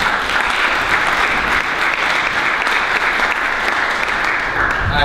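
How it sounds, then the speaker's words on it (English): A room of attendees at a leaders' meeting on hate crimes claps in steady, close applause that holds at a constant level for several seconds. "would you give John Wells a round of applause for volunteering to serve?"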